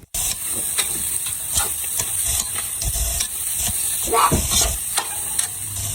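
Chicken with crushed pepper stirred in a hot pan for ginataan, a continuous loud sizzle and hiss with repeated scraping strokes of a utensil against the pan, close up and without talking.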